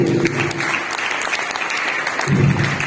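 Loud, dense applause from an audience at a leadership training event in Delhi, filling the whole stretch steadily with a brief voice heard faintly near the start.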